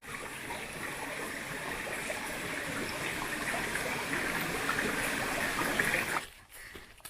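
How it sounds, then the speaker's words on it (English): Water flows and trickles steadily beside the War Spur shelter on the Appalachian Trail in Virginia, a continuous near stream wash that cuts off abruptly near the end. "Filtering water by the War Spur shelter"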